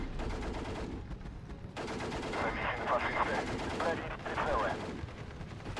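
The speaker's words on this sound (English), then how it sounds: "Look at that mortar strike." A mortar strike in the Steel Division 2 war game comes through as dense, continuous battle noise, with booming blasts and rattling gunfire layered over a constant roar.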